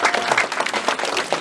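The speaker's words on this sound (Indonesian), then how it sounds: "Tepuk tangan untuk Ibu Inga ya." Audience applause for Ibu Inga, a philanthropist being introduced at a Biogreen Science training event: steady, dense clapping from a crowd, continuous and fairly loud throughout.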